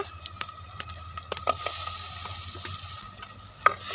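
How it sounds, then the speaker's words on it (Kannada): Goat legs frying in a pot for paya soup, a low sizzle with repeated clacks and scrapes of stirring against the vessel, close, with a sharper knock near the end. "ಮೂರು ನಿಮಿಷ ಇದನ್ನು ಫ್ರೈ ಮಾಡೋಣ"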